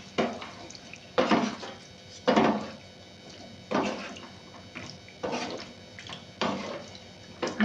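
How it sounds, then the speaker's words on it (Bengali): A spatula stirs Chinese food in a cooking pan, making rhythmic scraping and clattering strokes about every second, with short quiet gaps between them, close and moderately loud. "এবার দিয়ে এটা সুন্দর করে নেড়ে নেব"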